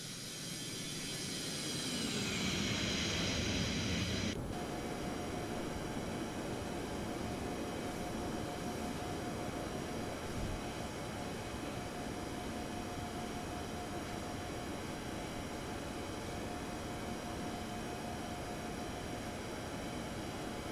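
Airbus A321neo jet engines in X-Plane 12 during the takeoff climb out of San Francisco, a loud, steady broadband roar with a thin sustained whine, rising over the first few seconds and then holding constant throughout.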